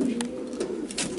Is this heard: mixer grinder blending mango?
no